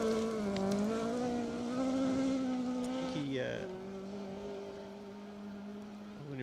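A Ford RS 1800 rally car on a Plains Rally 2WD stage gives a rising, whining engine note that drops with a gear change and continues more faintly as it moves away, with voices underneath.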